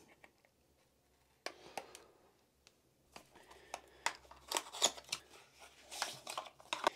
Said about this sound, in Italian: Per ogni unboxing che si rispetti ci muniamo delle nostre forbici e lo andiamo ad unboxare.